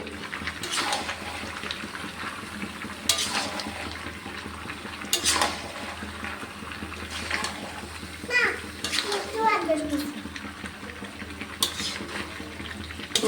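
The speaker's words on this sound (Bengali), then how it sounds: "এখন আমরা পালং শাকগুলো মাংসের সঙ্গে মিশাই দেবো" Spinach being stirred into chicken cooking in a pot, with a spoon scraping and clinking against the metal amid a soft sizzle, while someone talks in the background throughout.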